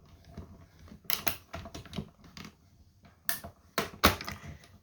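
A die-cutting machine cranks card pieces through, giving irregular clicking and crunching bursts with brief pauses, close and fairly loud, with no talking.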